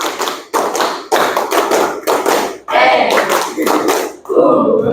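A class of students claps hands together in a counting rhythm game: loud, sharp bursts of unison clapping come in short grouped sets separated by brief pauses, ending with a softer burst as a voice comes in.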